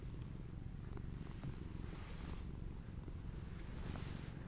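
A soft, steady low rumble of a cat purring, continuous and close, with no voices.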